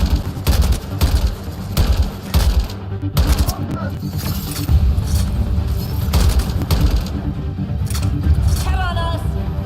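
Mass Effect Andromeda combat: loud, close rapid bursts of gunfire and sharp impacts crowd the whole stretch, with voices shouting over the battle.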